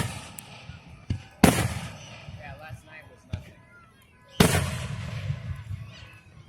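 Fireworks bursting outdoors at a display, two loud booms with crackling tails and a few smaller pops in between, while people chat nearby.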